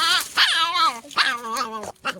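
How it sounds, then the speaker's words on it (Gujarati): Puppies give high whimpers and short yips, several rising and falling cries close to the microphone, separated by brief pauses. "બે ગલુડિયા ભેગા થયા"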